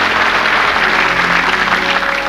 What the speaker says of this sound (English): Nice round of applause for Mr. Jack Tinker.